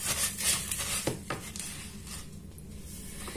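A spoon stirs savory cupcake batter in a bowl, made without oil or flour: soft scraping and rubbing with a few brief clinks against the side, moderately close and steady.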